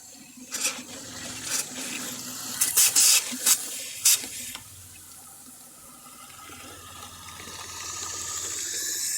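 Water runs steadily through a pop-up camper's plumbing to flush out pink antifreeze, a close, continuous hiss with a few sharp sputters and spurts early on before settling into an even, building flow.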